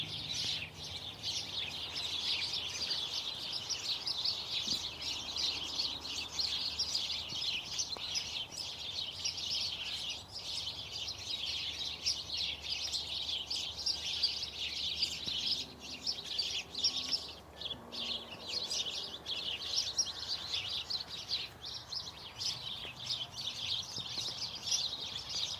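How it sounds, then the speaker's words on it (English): Many birds sing and chirp continuously in a backyard, a dense layered chorus of tweets and calls at moderate distance, with faint cooing mixed in and no talking. "I'll let you hear the birds for a little bit longer"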